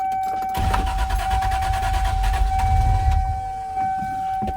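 A turbocharged Lexus SC300 cold-starts with a brief starter whir, then settles into a loud, rough idle that holds steady, with a thin whine running throughout.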